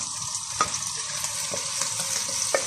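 Beef curry sizzles steadily in a pan as masala goes in, giving a bright continuous hiss with a few soft stirring clicks and nobody talking.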